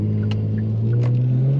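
Car engine rumbling steadily at close range in manual paddle-shift mode, its low drone holding, then rising slightly in pitch and loudness as it shifts into second gear.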